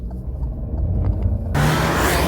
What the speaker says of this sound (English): you join us on some lovely country roads in, as I said, the Alfa Romeo Giulia Veloce